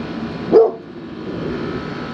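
A single short bark from a large dog, fairly close by outside a house, followed by quiet outdoor background.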